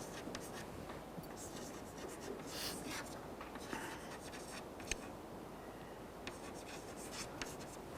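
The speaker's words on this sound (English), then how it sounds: "let me write the main theorem that we are going to prove" Chalk or pen scratching steadily as a mathematical theorem is written out by hand during a lecture, a soft continuous scraping with small taps, faint and close, with no talking.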